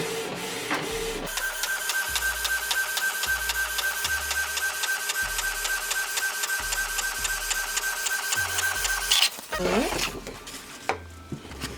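A printer runs steadily with a mechanical whir and repeated carriage clunks, ending with the page feeding out and a few clicks.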